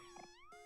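In the video game Omori, a cat gives two short, faint, high-pitched meows, the first wavering and the second rising, with a thin electronic hum running underneath.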